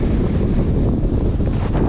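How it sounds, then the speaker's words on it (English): Strong wind on a Scottish mountain summit, Sgor Gaoith, buffets the microphone in a constant, heavy low roar with gusty rumbling throughout, loud and close, with no voices. "Very windy."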